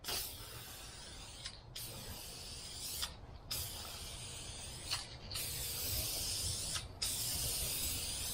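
Red spray paint hisses from an aerosol can onto custom Dodge RAM tail lights in steady bursts, with brief pauses between passes, close and moderately loud.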